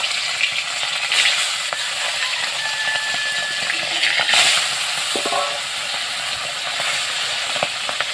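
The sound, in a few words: fish frying in oil in a wok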